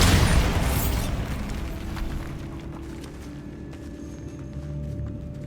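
A Bombarda spell explosion in the video game Hogwarts Legacy: a loud, close boom at the start that decays into a long rumbling tail with faint debris crackles.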